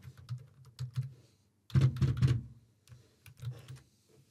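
Dummy details being typed into a registration form on a computer keyboard, a close run of quick key clicks in short bursts with brief pauses, one denser flurry in the middle.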